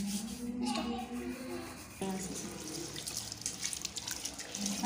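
Tap water runs steadily into a sink as scrubbed cookware is rinsed, with clattering handling partway through and a voice briefly audible nearby.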